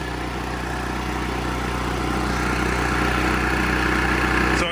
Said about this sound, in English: You can hear the RPMs now that it's getting warmer.